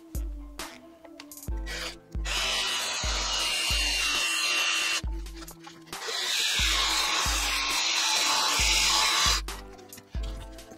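A cordless drill whirs in repeated bursts, grinding and rasping as it bites into a metal manifold bolt on a workbench, with cutting oil applied and short pauses between runs; close and fairly loud.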